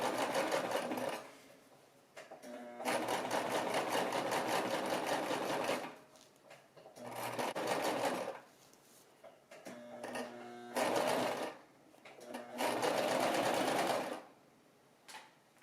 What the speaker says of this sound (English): And now I'm going to back up and do it again to secure the seam.